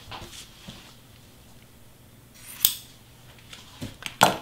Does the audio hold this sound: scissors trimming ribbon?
yes